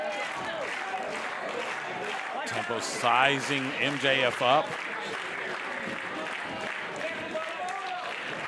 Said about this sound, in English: This crowd trying to rally behind Tempo.